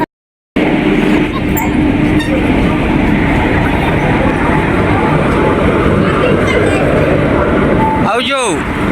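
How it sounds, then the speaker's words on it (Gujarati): A passenger train on the Bhavnagar–Mahuva line pulls into a station, its loud steady rumble and rolling rail noise filling the scene, with a brief squealing sweep near the end and people talking faintly underneath. "ટ્રેનનો અવાજ આવે છે."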